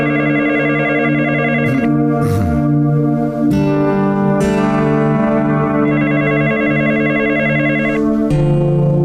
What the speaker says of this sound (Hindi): आला हुकाम की तरफ से फोन आ रहा है सर।